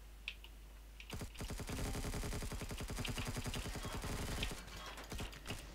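Rapid burst of magic shotgun fire in the sci-fi survival game Empyrion, a dense, steady string of sharp shots lasting several seconds, loud and close, with no voices over it.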